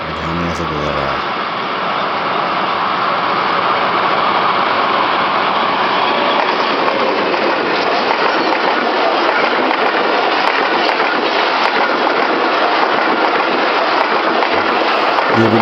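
Pakistan Railways GRU 20 locomotive 5013 leads an express train past Jhamia with a loud, continuous, close roar of engine and rolling wagons that holds steady throughout.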